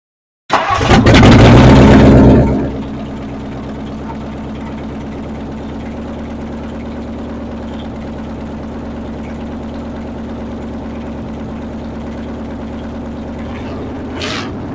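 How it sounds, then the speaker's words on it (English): A 1959 Edsel with a newly installed engine cranks and fires loudly, surges for about two seconds, then settles into a steady, even idle that rumbles on without a break. "So this is the first startup of this car since I got this motor put in."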